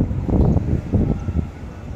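Gusts of wind on a sunny day in Bahrain buffet the microphone in low, uneven rumbles, with no voices.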